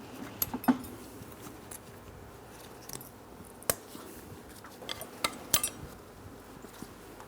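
Small metal brake caliper bracket tins on a 2008-2016 Chrysler Town & Country are pried loose, giving sharp scattered clinks and scrapes at close range over a quiet background.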